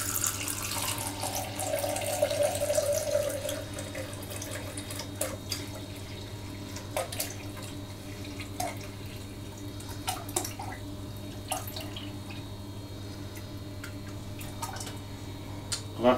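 Apple juice pours into a measuring jug in a thin, steady trickle with occasional drips and small splashes, quiet and close, and no one speaks.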